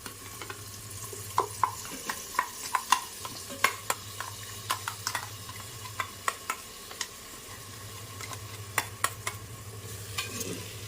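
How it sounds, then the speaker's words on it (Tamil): Ground paste for a Tamil yam curry stirred in a simmering pan, a steady soft sizzle broken by repeated sharp scrapes and knocks of the spoon against the pan, close and without talk. "போட்டு அப்படி ஒரு கிண்டு இப்படி ஒரு கிண்டு நல்லா கிண்டி"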